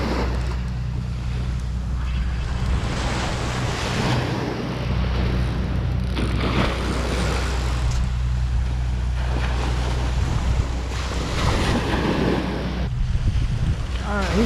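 Surf breaking on a Gulf Shores beach at Fort Morgan, heard as a steady wash of waves with wind buffeting the microphone throughout, loud and continuous with surges as sets roll in.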